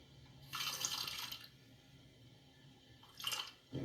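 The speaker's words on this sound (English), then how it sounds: "I might need a little bit more water." Water poured into a container, two short splashing bursts separated by a quiet pause, faint and close, with no talking.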